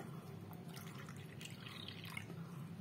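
Water pours into a Pigeon electric rice cooker in faint splashing, dripping bursts, with no talking.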